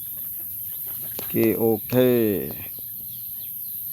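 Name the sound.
chickens clucking at a farm coop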